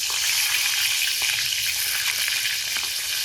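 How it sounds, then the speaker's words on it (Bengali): Eggplant pieces fry in hot mustard oil in a wok, giving a steady, fairly close bright sizzle with a few soft crackles and stirring sounds, no voices. "গরম কড়াইতে দিলাম সর্ষের তেল, পাটাতে পেঁয়াজ লঙ্কা রাখলাম, বেগুনের পিসগুলো কড়াইতে দিয়ে নিই"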